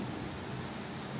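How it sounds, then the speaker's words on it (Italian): Rain falls on Rome in a soft, even hiss that stays constant and fairly faint throughout, with no voices. "sentire ancora come piove. Sta aumentando adesso."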